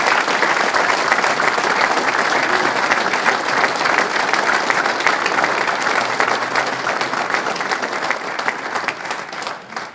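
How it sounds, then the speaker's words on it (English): Sustained, loud applause from a room full of people honoring award winners at a golf association spring meeting, dense clapping that holds steady for about ten seconds and thins slightly at the end. "Will you please join me in a round of applause for all of our very deserving award winners."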